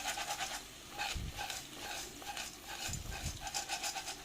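Spaghetti fries in oil with garlic in a single pot for koshari, a soft steady sizzle with periodic scraping stirs and a few low thumps, close and quiet without talk.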